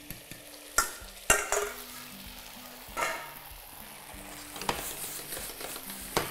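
Eggs with vegetables frying in a pan for an omelet, a steady close sizzle with a few louder stirring scrapes and clicks from a utensil on the pan.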